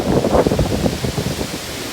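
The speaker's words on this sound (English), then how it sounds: "There's some wind going. Look. Getting a little gustier." Gusty hurricane wind during Hurricane Dorian in Charleston, South Carolina, roars and buffets the microphone in a loud, close, rumbling rush that swells and eases over a couple of seconds.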